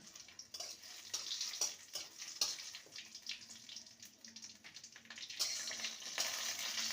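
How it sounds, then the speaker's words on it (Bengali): Half a spoon of whole cumin seeds with two dried red chillies frying in hot oil as a tempering, a close, steady crackling sizzle with scattered pops and small ticks that swells near the end, with no talk. "আর ফোড়নে দেব হাফ স্পুন গোটা জিরে ফোড়নটাকে ভেজে নেবো"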